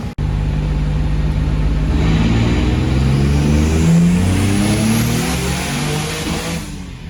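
Nissan 300ZX with a VQ35DE engine making a boosted power pull, a loud close roar that climbs steadily in pitch for several seconds, then eases off near the end.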